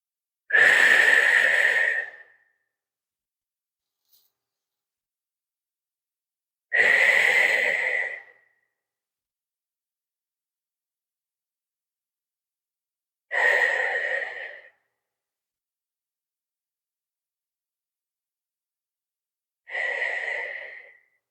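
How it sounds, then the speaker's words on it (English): Four deep, slow breaths taken during a breathing exercise in a recovery-day ground-flow session, each a long airy rush lasting about two seconds, spaced evenly apart with silence between them, close and clear. "we're gonna take 4 nice big breaths and we're gonna go in for 4 counts and then we're gonna breathe out for 4 counts"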